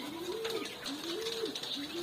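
Caged quail calling in a steady, close series of rising, repeated coos and chirps, with a faint rattling background and no voices.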